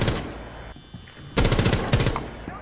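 SMG gunfire in a video game: rapid bursts of automatic shots, loud and close, with a short pause between two volleys.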